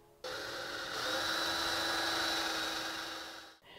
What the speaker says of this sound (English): Now that our pilot holes are drilled